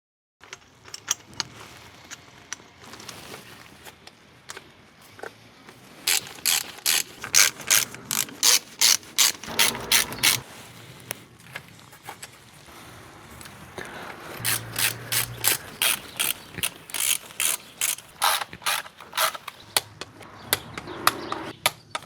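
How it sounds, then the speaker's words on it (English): Rapid ratchet clicking in bursts as screws are tightened on an intercooler bracket of a Mini Cooper S R53, close and fairly loud, with pauses between runs and a few light metallic handling noises. "Now we put in the screws and brackets."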